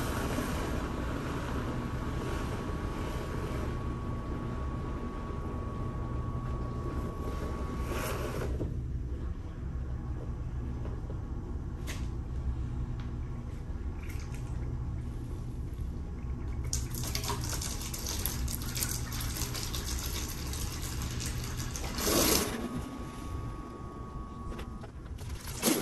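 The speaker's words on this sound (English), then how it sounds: "Be aware this will splash when you first plug it in. It's a very strong pump." A strong pump drains water into buckets, a steady rushing, splashing stream with a low motor hum underneath, interrupted by a few brief knocks and louder splashes near the end.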